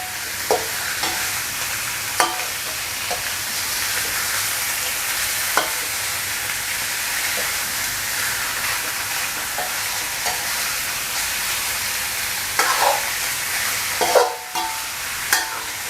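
Fresh catfish stir-fried with hand-pounded curry paste in a spicy stir-fry: a loud, continuous sizzle runs throughout, broken by repeated spatula scrapes and clacks against the pan, with a sharper knock near the end and no voices.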